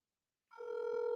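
A telephone ringing on a call: after half a second of silence, a single steady electronic ring tone starts and holds, clear and alone.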